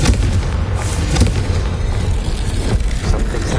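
Confringo blasting curse going off in Hogwarts Legacy, a loud booming explosion with a heavy low rumble and crackling debris that rolls on for several seconds.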